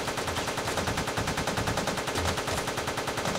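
Gunfire in the game Teleglitch, a fast, even machine-gun rattle of loud rapid shots that runs continuously throughout, close and alone without talk.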